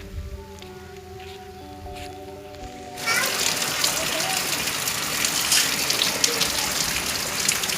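Heavy monsoon rain bursts on at once after a few seconds of tonal humming background, then pours as a dense, loud, steady hiss and patter on surfaces for the rest of the time.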